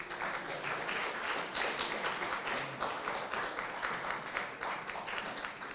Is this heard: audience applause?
yes